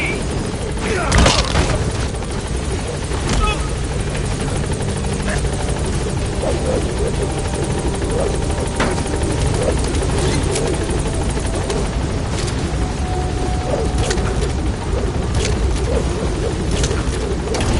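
Continuous, loud helicopter rotor and engine roar in Metal Gear Solid V as the aircraft gains altitude, a dense steady drone throughout with occasional faint voice chatter beneath.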